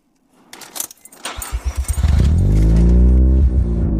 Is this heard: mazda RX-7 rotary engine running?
yes